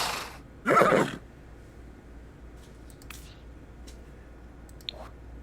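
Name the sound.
horse neighing in The Sims video game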